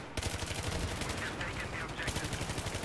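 Rapid automatic fire from an AEK-971 rifle in Battlefield 3, a fast unbroken stream of sharp shots rattling close and steady for nearly three seconds.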